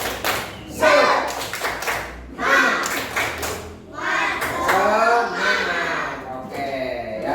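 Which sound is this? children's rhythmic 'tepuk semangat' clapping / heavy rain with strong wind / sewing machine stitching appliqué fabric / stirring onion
children's rhythmic 'tepuk semangat' clapping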